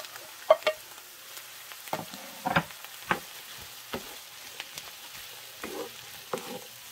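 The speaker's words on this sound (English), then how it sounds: "I'm just going to saute these for a few more minutes." Onions sautéing in a pan for collard greens soup, with quiet soft sizzling broken by intermittent spatula scrapes and taps, close and fairly faint.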